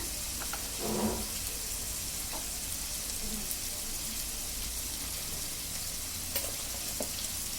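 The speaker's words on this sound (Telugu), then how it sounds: "ఇవన్నీ ఇప్పుడు ములక్కాయలు వేసేసి బాగా ఫ్రై చేసుకోవాలి." Drumstick (moringa) pods frying in oil for a prawn curry give a steady, soft sizzle throughout, with a few faint clicks of stirring and no talking.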